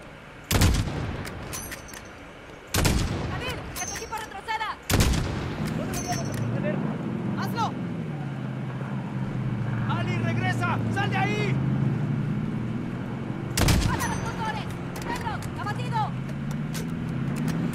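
Sharp sniper-rifle shots from the Call of Duty Modern Warfare campaign crack loudly at irregular intervals, four or five heavy reports over a rumbling engine-like drone, while people talk between them.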